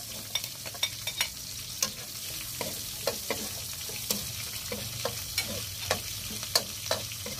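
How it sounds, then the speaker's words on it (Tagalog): Garlic and onion frying in a pan, a steady broadband sizzle broken by sharp spatula scrapes and taps at an irregular rhythm, close and moderately loud, with no talking. "Lalagyan na po natin ng bawang. At sibuyas."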